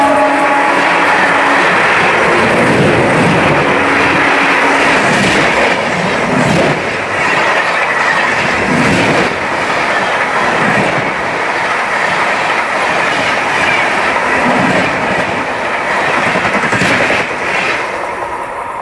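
The Ernakulam–Tatanagar Express thunders past on the main line at Kuneru while another train waits on the loop, a loud, close rush of rolling wheels with rhythmic clickety-clack and brief squeals, slowly fading near the end.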